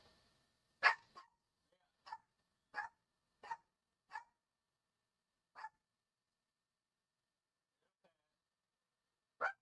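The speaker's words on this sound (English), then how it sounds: "My dog is going crazy." A dog barks indoors: eight sharp, fairly faint barks, spaced irregularly with quiet gaps between them.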